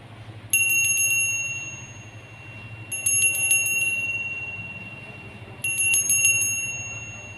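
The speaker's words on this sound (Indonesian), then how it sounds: "Kita akan memulai dengan ditandai lonceng berbunyi." A small, bright bell rings in three short jingling bursts spaced a few seconds apart, close and clear over a low steady background hum, with no talking.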